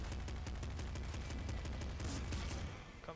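Rapid bursts of gunfire in the video game Nuclear Throne crackle continuously, sharp shots in quick succession before tapering off near the end, with no talking.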